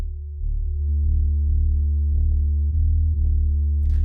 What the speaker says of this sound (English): I'm FMing a pure sine by a sine with a little bit of square juice in there